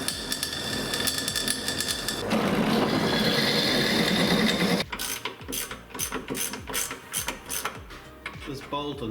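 Ratchet clicking while working bolts on the gearbox of a Scimitar car, a close rasping stretch of ratcheting followed by a run of sharp, rhythmic clicks.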